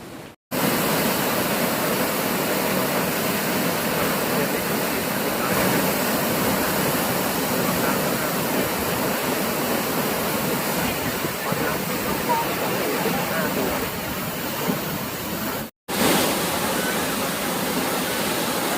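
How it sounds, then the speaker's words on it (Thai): Haew Narok waterfall in Khao Yai National Park in strong flow, a dense, continuous roar of falling water, loud and steady throughout, with only a brief cut near the end. "น้ำตกเหวนรกอุทยานแห่งชาติเปาใหญ่ครับ สวยงามมากๆครับ ช่วงนี้น้ำกำลังแรงเลยทีเดียวนะครับ"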